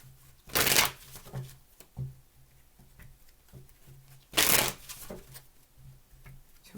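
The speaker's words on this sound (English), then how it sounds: "Two more shuffles." Tarot cards being shuffled by hand, with two quick, crisp riffle bursts separated by softer taps and rustles of the deck, close and fairly quiet with no talking.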